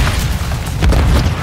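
A grenade detonates in Call of Duty Modern Warfare 3, a loud, close, muffled boom with a deep low rumble that swells near the end of a short burst, with no voices over it.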